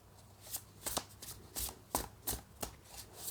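Tarot cards are shuffled repeatedly with soft riffling, papery bursts in an uneven rhythm. It sounds close, with no voice.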